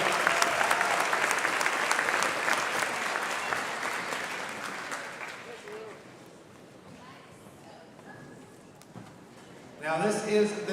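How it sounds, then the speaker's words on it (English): An audience applauds a 6th grade concert band at a festival of bands, with loud sustained clapping that fades after about six seconds into quieter room noise, and a voice speaking near the end. "Let's give a round of applause"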